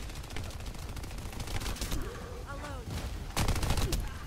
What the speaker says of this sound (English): If I can hear a shot.